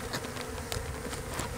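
Honeybees buzz around an opened beehive during a hive health check, a close, steady drone with individual bees flitting past the mic, no voices.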